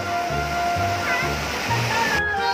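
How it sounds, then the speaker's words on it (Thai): A strong waterfall pours hard over rocks at the lower tier of Pha Kluai Mai waterfall, giving a loud, steady, close roar of rushing water. "น้ำตกมันตกมาแรงไงเพราะว่าอันนี้มันอยู่ชั้นท้ายๆแล้ว"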